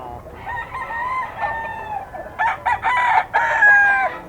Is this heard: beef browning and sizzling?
no